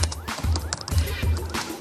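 A horse whinnies within a television advert, with a bright, shaky neigh spread over a low pulsing hip-hop beat. Sharp knock-like hits sound along with the music.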